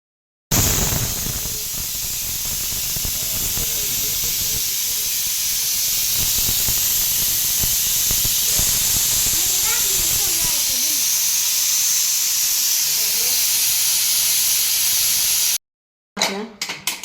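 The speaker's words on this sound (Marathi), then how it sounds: "दोन ते चार शिट्ट्या काढून घेऊ छानपैकी आता" A pressure cooker hisses and whistles as it vents steam over boiling green pigeon pea pods, a continuous loud, sharp jet of steam that runs for about fifteen seconds before cutting off abruptly.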